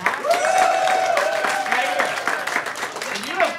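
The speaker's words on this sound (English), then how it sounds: "give Jair a big round of applause again" An audience claps and cheers as a voice speaks loudly over the applause, which fades toward the end.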